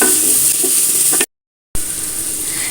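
Cauliflower sautés with salt in a pan, a steady close sizzle with scraping stirs, broken by a half-second gap of silence before the frying resumes.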